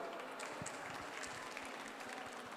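Steady applause from a conference audience, a dense patter of clapping held at an even level throughout, heard from a distance.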